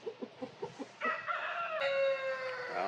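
Backyard chickens cluck in a short rhythmic run of about six close, distinct clucks, then break into a loud, drawn-out squawking call that carries to the end, with no talk over it.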